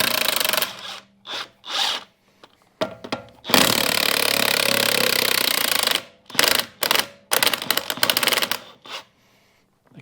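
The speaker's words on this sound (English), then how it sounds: "I love this electric DeWalt impact." A DeWalt electric impact wrench tightens lug nuts on a wheel, firing in several short, loud bursts separated by pauses, with one longer sustained hammering run in the middle.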